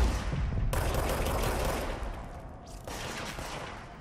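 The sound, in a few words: gunfire in the video game Control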